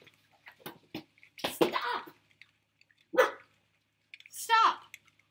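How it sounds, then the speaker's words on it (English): Dogs bark indoors at people paving outside, sharp close barks and yelps coming in scattered bursts with gaps between, mixed with throat-like huffs and a person's voice. "My dogs are barking at"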